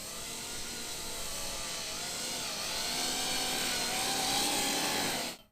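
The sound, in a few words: Coanda effect drone taking off at half throttle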